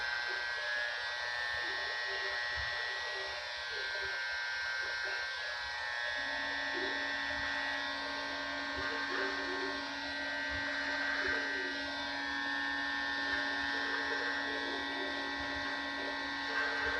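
A buzzing electric trimmer runs close up, steady and continuous, as a man lightly trims his mustache, with the motor's tone shifting slightly as it moves; no talking over it.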